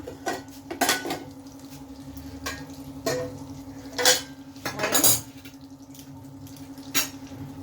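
Metal lid lifted off a pan of frying surmai fish in shallow oil, a few sharp clinks and clatters of metal on metal over a steady low kitchen hum, with faint drips between.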